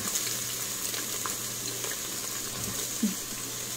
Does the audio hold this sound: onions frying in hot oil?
yes